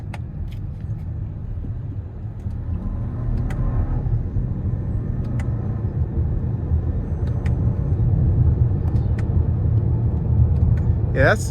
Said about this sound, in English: I'm gonna give it a pull with these paddle shifters and just see what it does